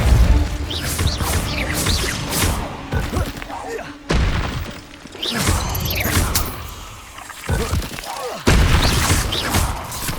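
Spell blasts from Hogwarts Legacy on PS5 burst in loud, close bursts of booms and shattering crashes, several in quick succession, while a voice calls out incantations between them.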